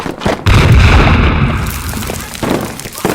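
A grenade explodes during a war-film battle, a loud, close boom that rolls into a long rumbling roar, followed by a second, smaller blast near the end amid the combat noise.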